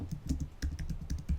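Quick, light typing on a computer keyboard: a rapid run of soft, close clicks with no other sound.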